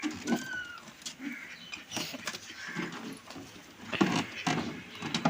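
A pigeon coos faintly several times against quiet outdoor background noise, with a few soft knocks and rustles in between.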